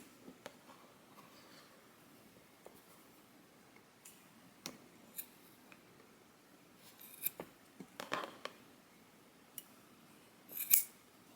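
Scissors snip through cord for a homemade essential oil diffuser, a few scattered close crisp cuts with small ticks between, the loudest snap near the end.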